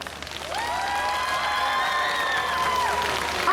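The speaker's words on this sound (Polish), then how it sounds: "Jeszcze raz wielkie brawa" A crowd applauds and cheers at a volleyball team presentation during the Siedlce town days, a loud, sustained wash of clapping that swells after a moment, with bright whistles or sung tones ringing above it.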